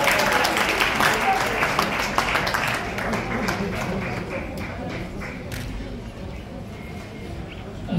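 Audience applause welcoming a guest at an awards ceremony, a dense burst of clapping that starts strong and slowly thins out over several seconds while a voice speaks over it.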